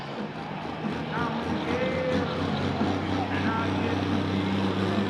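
Loud, steady roar of a John Deere 4440 pulling tractor with a 2.4-inch turbocharger, running near 3,000 RPM at a tri-state tractor pull in Mineral Point, sustained throughout with a commentator's voice over it.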